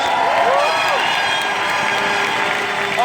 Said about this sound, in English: Come on, give Eric a round of applause.